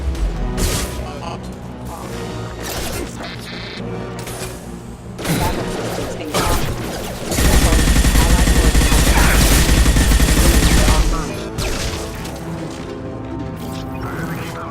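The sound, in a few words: heavy gunfire in video game Mass Effect 2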